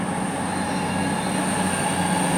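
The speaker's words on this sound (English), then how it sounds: "trains are going past" Trains going past near the sea, a steady close rumble of rolling wheels with a high squeal running through it, continuous and loud with no talking.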